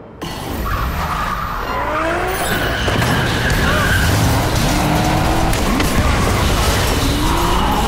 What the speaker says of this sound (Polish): Możemy uruchomić samochody i spuścić je na dół.